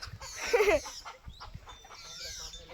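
Chickens cluck briefly and close by on a farm during a sudden rain shower, a short burst of calls over soft background noise, with a faint voice in the distance.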